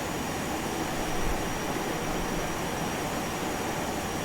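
A FlyJSim 737-200 in X-Plane 11 roars steadily on its takeoff run, a loud, dense, unbroken jet engine rush that holds level throughout with no talk.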